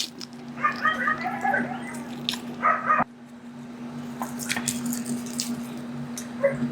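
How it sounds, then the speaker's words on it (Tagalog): Several dogs bark and yip in the background of a casual outdoor drinking session, in irregular bursts of varying loudness over a steady low hum, with no one speaking. "na naririnig niyo yung mga asong ingay."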